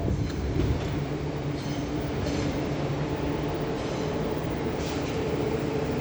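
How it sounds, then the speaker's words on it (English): A train passing through Leeds station on the East Coast Main Line gives a steady rumble with rail noise and a few faint clicks, holding loud and even for about six seconds with no talk. "And there is another train departing."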